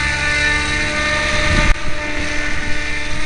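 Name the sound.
Align 700 radio-controlled helicopter flying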